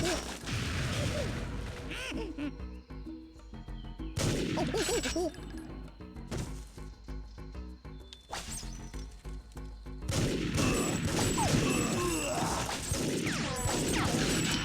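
Luger pistol fire in TimeSplitters 2, sharp crashing shots in several bursts with in-game music and effects behind them, fairly loud and near.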